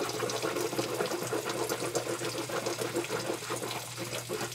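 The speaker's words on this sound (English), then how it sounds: "And use some hot water to rinse." Hot water running steadily from a bathroom tap for rinsing after brushing teeth, a continuous close splashing stream with no talk over it.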